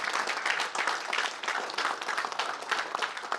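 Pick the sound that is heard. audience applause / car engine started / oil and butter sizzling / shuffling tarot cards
audience applause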